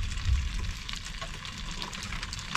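The remaining cream goes into a hot pan with pasta for a cheese-cream sauce at a campsite, giving a soft, steady sizzle and bubbling with a low thump at the start.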